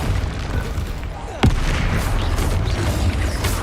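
Bombarda blasting spell in the wizarding game Hogwarts Legacy: a single sharp, loud explosive burst midway, cutting through a steady background rumble of battle noise.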